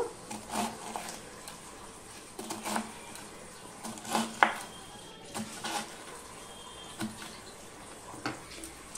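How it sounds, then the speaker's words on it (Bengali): A knife chops through a head of cabbage for a Bengali vegetarian cabbage dish made without onion or garlic, giving sharp, irregular cuts against a board, fairly quiet and close, with no talking. "এইভাবে সমস্ত বাঁধাকপিটা আমি কেটে নিচ্ছি।"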